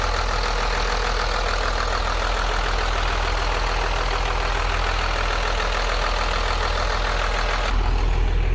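A 12-valve Cummins diesel swapped into a Ford F-450 runs at a steady idle, a dense, loud, even clatter and drone that continues unbroken before a slight shift near the end, with no one talking.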